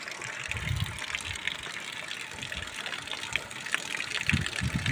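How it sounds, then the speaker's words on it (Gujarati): Steady gushing water pours continuously from a tap that will not shut off, watering a village soybean field, with a broad hiss, punctuated by occasional low thumps, no talking. "નળ જ બંધ નથી થતો ભલે ચાલુ રહ્યું"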